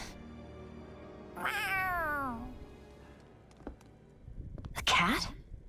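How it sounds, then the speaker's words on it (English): Cat in the video game Tales of Arise gives a drawn-out, rising-then-falling meow, then a second shorter meow a few seconds later, set against quiet game ambience. "A cat? Where'd it come from?"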